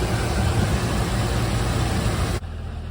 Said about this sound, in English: This truck is running beautifully